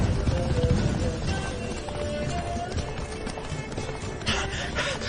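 Roach, a horse in a video game, gallops hard with a dense rhythmic drum of hooves that holds steady throughout.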